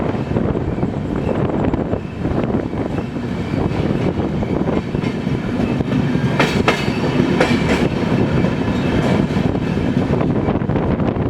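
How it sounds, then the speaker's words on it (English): Rajdhani Express train accelerating away from Parsanath railway station, heard from inside a first-class AC coach: a steady, loud rumble of wheels on rails with rhythmic clickety-clack and some wind noise throughout, no talking. "it's rapidly accelerating from the Parsanath railway station"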